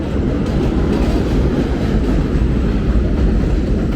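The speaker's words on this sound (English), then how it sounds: "that was another garbage train" A garbage train rolls by on elevated rails at New Utrecht Avenue, Brooklyn, continuous heavy rumble with clickety-clack of wheels and a hint of metallic squeal, sustained throughout.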